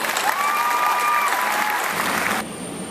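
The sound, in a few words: applause at graduation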